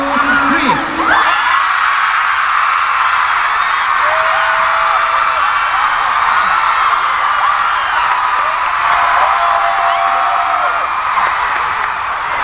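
Concert crowd at a boy group show screaming and shouting loudly and continuously, a dense roar of high-pitched shrieks and whoops close by, with no talk over it.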